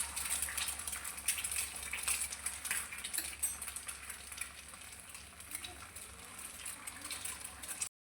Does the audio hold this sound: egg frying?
yes